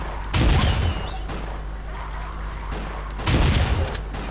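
Two loud bursts of rapid gunfire from S.T.A.L.K.E.R. Oblivion Lost Redux, shots fired into the air, a few seconds apart, with a quieter stretch between them.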